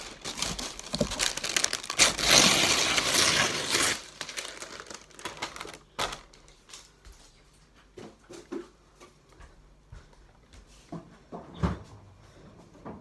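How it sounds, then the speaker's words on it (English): Baking parchment crinkles and rustles as it is handled and pressed into a cake tin, loud and close for the first few seconds, then quieter scattered crinkles, taps and handling noises. "So now we need to line the cake tray with baking parchment and some butter."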